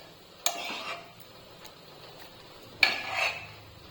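Whole spices such as bay leaf and cinnamon are dropped into a steel mixer jar, giving two sharp clattering knocks about two seconds apart against a quiet kitchen background.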